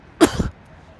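A single short, harsh cough from a man with a sore throat, close and loud, lasting about a quarter second before quiet returns.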